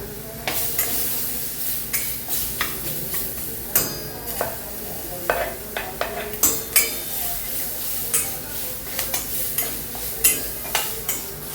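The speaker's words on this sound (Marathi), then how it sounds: "कांदा चांगला तळू द्यायचा लाल" Onion and tomato frying in a pan on a home stove, sizzling steadily while a utensil stirs and scrapes against the metal in irregular clinks, up close with faint background noise.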